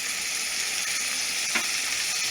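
Butter melting and sizzling in chorizo grease as a gravy base, a steady close frying crackle with one brief louder pop, nothing else over it.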